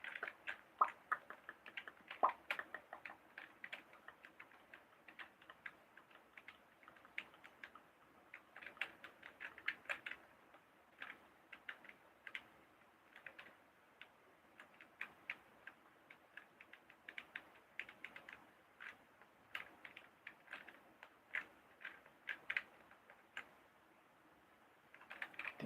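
Computer keyboard typing during a live gaming stream, quiet, close and continuous, with rapid uneven bursts of key clicks and brief pauses between flurries.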